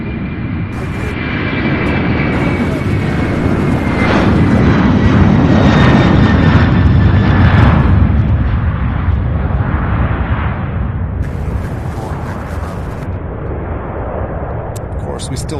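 An MD-11 pushes back on an airport cargo ramp in winter, its jet engines roaring loud and steady in a broad rumble that swells and then eases slightly, with someone talking over it.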